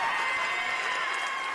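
Steady crowd noise at a college women's gymnastics meet between A&T Limestone and Coker, a broad wash of cheering and applause from spectators and teammates, fairly distant and even throughout.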